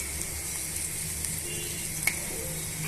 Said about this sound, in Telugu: పసుపు యాడ్ చేసుకోవడం వల్ల ఉల్లిపాయ ముక్కలు త్వరగా మగ్గి త్వరగా వేగిపోతాయండి